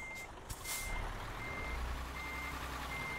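A truck's reversing alarm beeps steadily in Euro Truck Simulator 2, a repeated tone over the low rumble of the idling engine, with no talking.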